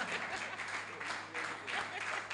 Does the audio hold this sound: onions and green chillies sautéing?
no